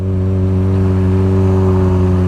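Yamaha FZ6R motorcycle with a Hindle exhaust, R6 header, Yoshimura slip-on and high-flow air filter running on a dyno, a loud, steady, close engine drone holding a constant pitch throughout.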